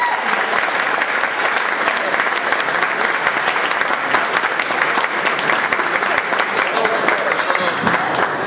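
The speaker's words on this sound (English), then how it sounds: "Let's give him a big round of applause" A large crowd gives sustained, loud applause for Charlie Baker at a 2010 campaign event in Methuen, dense steady clapping filling the whole stretch without pause.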